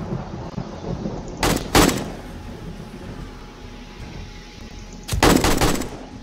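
AK rifle gunfire in 7 Days to Die during horde night: two loud bursts of rapid shots, one early and one late, over a constant low ambient rumble, with no talking.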